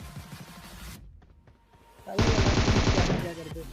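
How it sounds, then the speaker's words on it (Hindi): Gunfire in the battle royale video game PUBG, a dense burst of rapid automatic shots, loud and close, following a quieter stretch with some earlier shots. "अब यहाँ पे एक बंदा भाई मेरे उतरते ही फायर देता है"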